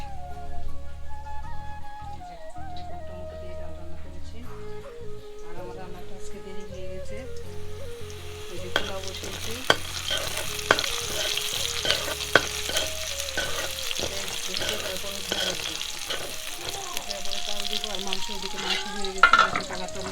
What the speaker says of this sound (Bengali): আমি ডাল রান্না করছি